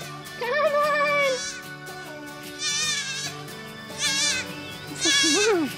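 Several goats bleat in loud, wavering cries at a farm, in four separate bursts with short pauses between them and no speech.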